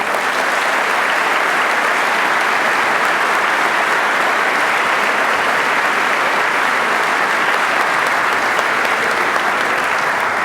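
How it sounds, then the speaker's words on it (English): Sustained audience applause at a state legislative address, a dense steady wash of clapping from a large chamber crowd lasting the whole stretch, loud and unbroken with no voices on top. "we all should give them a round of applause"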